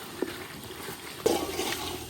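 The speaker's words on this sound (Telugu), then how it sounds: "కొన్ని నీళ్ళు అయితే పోసుకోవాలి." Water poured into a cooking pot with masala, a brief splash followed by a short, moderately quiet pouring gurgle.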